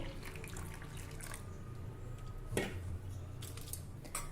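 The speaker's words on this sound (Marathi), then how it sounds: "आपल्याला ह्या कोंड्यामध्ये हाताला सहज सोसवेल एवढं कोमट पाणी घालायचं आहे" Lukewarm water runs into a bowl of wheat bran in a home kitchen, making a steady, soft, close wash of sound with a single brief clink partway through.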